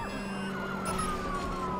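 A police siren in Watch Dogs wails steadily, rising and falling in pitch over a continuous engine rumble, loud and close throughout.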